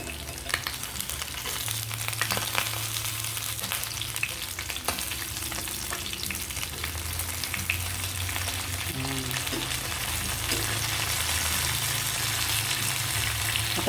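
Gourami fish frying in a pan with a steady, close sizzle and crackle of hot oil throughout, occasional stirring and faint clinks, no talking.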